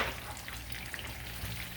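Honey garlic chicken breasts frying in a pan, giving a steady, quiet sizzle with faint crackles, close by and uninterrupted.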